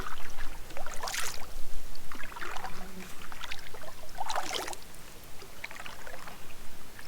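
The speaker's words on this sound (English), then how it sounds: "It's a big old 16-foot flat bottom green canoe." Paddle strokes splash and trickle beside a big old green 16-foot flat-bottom canoe on calm water, a few soft bursts coming close and quiet, with no talking.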